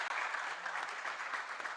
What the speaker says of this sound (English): A round of applause once again, please.